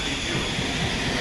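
A train at a railway station produces a loud, continuous rolling rumble with a broad wash of noise and no distinct breaks.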